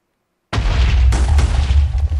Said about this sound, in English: And here's the explosion.